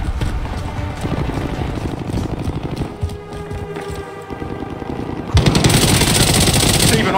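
Rapid gunfire in the Call of Duty Warzone Rebirth Resurgence battle royale: dense, rattling automatic bursts run continuously, briefly thinning, then surging louder and closer near the end.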